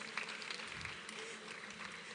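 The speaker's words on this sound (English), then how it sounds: "Let's applaud these brilliant students." An audience applauds students at an Erasmus+ 2022 pre-departure orientation event: a steady, dense wash of clapping that holds at an even level for the whole short stretch.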